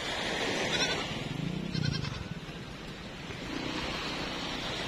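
Waves wash constantly on a beach north of the bull-racing field in Ketapang, a dense roar of surf heard throughout, with a few faint animal-like bleating calls over it.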